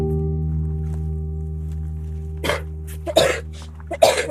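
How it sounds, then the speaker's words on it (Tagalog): A woman coughs in short bursts: one cough, then two louder harsh coughs close together, over a steady low mechanical hum. "Tingnan, inuubo si ate."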